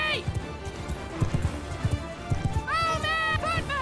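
Galloping cavalry hooves in a medieval battle game, rapid rhythmic thuds close by, with shouted commands and a horse whinny rising over the hoofbeats near the end.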